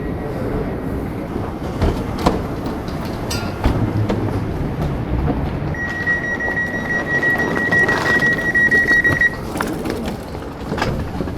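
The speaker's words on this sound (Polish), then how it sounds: "To jest pociąg już tutaj." A train in Poland rumbles along steadily with rhythmic clacking over the rails, a constant near roar, and a brief high whine midway; no talking.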